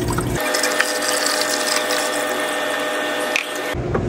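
Two liters of water poured steadily into the tank of a coffee maker, a continuous close rushing pour lasting a few seconds and then stopping, with no talking.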